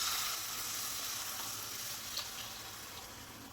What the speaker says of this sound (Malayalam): അതിലേക്ക് നമുക്ക് 1/2 ലിറ്റർ പാൽ ഒഴിച്ച് കൊടുക്കാം